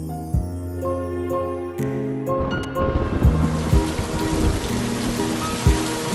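Heavy rain pours down in a steady wash, rising partway through, with a few louder drops or splashes over soft music-like tones.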